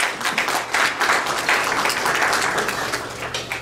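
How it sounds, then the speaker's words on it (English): A hall audience applauds cancer survivors at a charity event for a cancer care hospital in Pakistan, dense steady clapping with no gaps, fairly loud and fading only slightly over a few seconds. "Let's have a round of applause for all cancer survivors."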